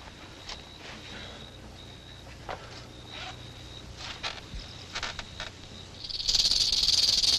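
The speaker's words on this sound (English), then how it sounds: "Snakes. Dozens of them all outside the tent." Rattlesnakes rattling outside a tent in a sci-fi movie scene, scattered dry rattles and rustles over a quiet night ambience with crickets, then a louder sustained rattle at the end.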